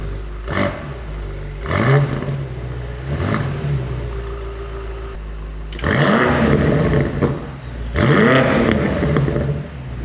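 BMW M8 Competition Gran Coupe revs in a series of short, sharp bursts on a test drive, each flaring and falling back, with quieter gaps between and two longer, louder pulls near the end.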